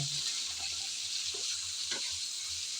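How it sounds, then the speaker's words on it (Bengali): Bitter gourd and potatoes with cumin and salt stirred in a frying pan: a faint, steady sizzle with a few soft scraping and tapping touches from stirring. "এখন সব একসাথে ভালোভাবে নেড়ে চেড়ে মিশিয়ে নিতে হবে"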